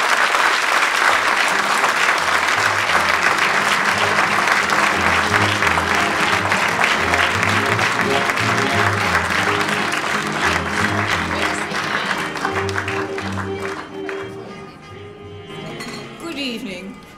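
An audience claps at length to welcome a guest speaker who will tell a wartime story, with loud sustained applause and some clinking of glasses and dishes, thinning out near the end.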